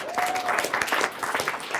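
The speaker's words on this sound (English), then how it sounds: "Let's give him a round of applause." A brief round of audience applause for a featured speaker at a talk, a dense wash of clapping throughout with no voices over it.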